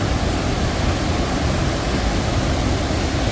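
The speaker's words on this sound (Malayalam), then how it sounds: "വെള്ളം കണ്ടില്ല, നല്ല ചാടി ഒഴുകി കുത്തി ഒഴുകി വരികയാണ്." Khon Phapheng waterfall in Laos gives a loud, steady roar of rushing, crashing water that fills every moment without a break.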